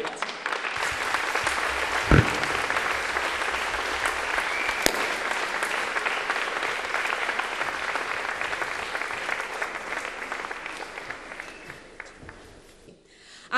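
A concert audience at an international guitar festival applauds an orchestra, a long, full, steady roar of clapping that holds strong, then thins and fades out near the end.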